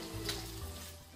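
Guanciale sizzles and fries in oil in a pan, a steady close crackle with a faint stir, no voices over it.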